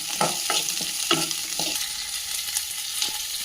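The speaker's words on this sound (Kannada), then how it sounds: "ಹುರ್ಕೊಳ್ಳೋಣ." Onion, garlic and ginger fry in a teaspoon of oil, giving a steady sizzle, with a burst of clattering stirring strokes early on before the hiss settles and continues.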